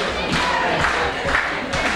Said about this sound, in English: Crowd getting behind Aries here.